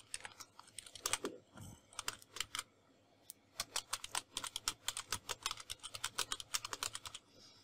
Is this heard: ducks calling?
no